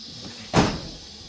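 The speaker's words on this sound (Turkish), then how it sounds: "derken kapı kapandı" A balcony door swings shut with a single short, soft thud over a quiet background hiss.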